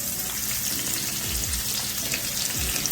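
Onion sizzles and fries steadily in a pot, a close, continuous crackling hiss with a few low knocks from stirring, for Jamaican-style steamed cabbage with garlic, scallion and thyme.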